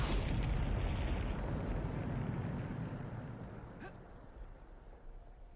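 A Bombardo blast spell in Hogwarts Legacy, a loud, broad explosive rumble that opens at full strength and slowly decays over several seconds, with a brief sharp crackle near the end.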